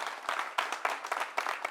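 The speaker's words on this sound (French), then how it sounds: "On les applaudit encore plus fort, s'il vous plaît." Studio audience applause on a French-language talk show, a short burst of fairly faint, uneven clapping with individual claps popping out.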